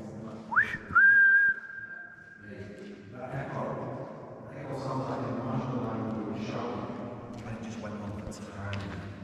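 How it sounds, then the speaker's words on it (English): A sharp rising whistle followed by a long steady whistled note that rings out in an underground airbase tunnel, then muffled voices talking with echo. "I'm sure someone whistled back, to be fair."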